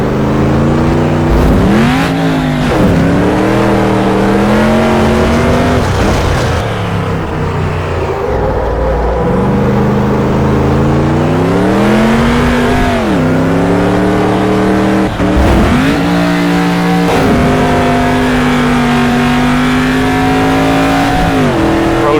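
A race truck engine from the Automobilista SuperTruck racing game roars loudly and continuously, its pitch sweeping up through gear changes and dropping as it shifts, with repeated revving climbs and falls.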